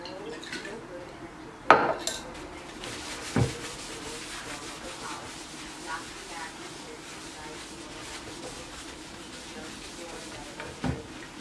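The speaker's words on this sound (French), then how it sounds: "je vais juste dégager et mettre dans le lave-vaisselle" Dishes, pots and cutlery knocked and clattered as they are loaded into a home dishwasher after cooking, with a few sharp clinks standing out over a steady low rubbing and handling noise.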